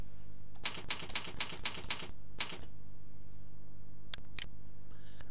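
Keys on a computer keyboard clatter as a title is typed in software, a quick burst of about eight close, crisp keystrokes, then a pause and two more isolated taps over a faint steady hum.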